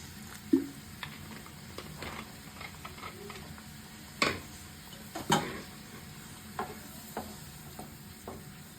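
A pan of Kashmiri apple pickle with vinegar cooks gently, giving a low steady simmering hiss broken by a few sharp scrapes and taps of a spoon stirring against the pan.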